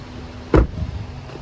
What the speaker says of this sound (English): If you want to drop the seat back down, just drop it down and it locks back in place.